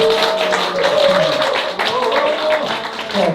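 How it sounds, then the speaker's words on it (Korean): An audience at a lecture breaks into sustained applause, a steady wash of clapping running throughout with a voice speaking over it. "박수를 좀 부탁드리겠습니다"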